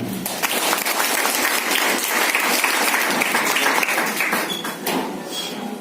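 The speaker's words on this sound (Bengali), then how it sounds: "জবরদস্ত হাততালি।" Enthusiastic audience applause at a business presentation for a health products company, dense clapping from a crowd throughout, loud and close, easing slightly near the end.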